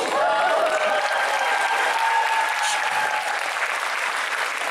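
Steady applause from an audience at the autumn MondoCon 2017 cosplay convention in Hungary, a dense sustained clapping that fills the whole stretch at close, even loudness with no speech over it.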